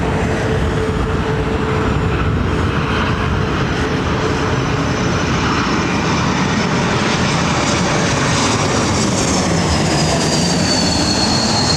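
An Air Baltic airliner lands at London Heathrow, heard as a loud, steady, broadband jet roar that holds throughout with no letup and a faint whine riding high above the rumble.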